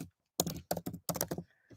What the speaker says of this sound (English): So you're gonna have to watch me typing on my laptop.